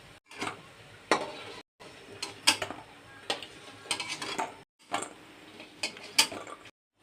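Fried lentil fritters (bora) being lifted out of hot oil in a pan for a Bengali vegetable curry, giving a run of sharp metallic scrapes and clinks in irregular bursts over a faint, steady sizzle, close by with no talk.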